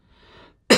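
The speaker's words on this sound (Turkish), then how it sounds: "Öksür abi." A man gives a faint breathy rasp followed by a single sharp, loud cough up close.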